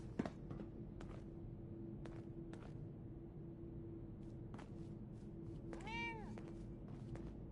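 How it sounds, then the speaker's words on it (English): Cat meowing in Fallout 4: a single drawn-out meow near the end, over a quiet game hum with scattered soft thumps and clicks. "Oh no, this is the cat that escapes, and you have to, like, find it for the little girl."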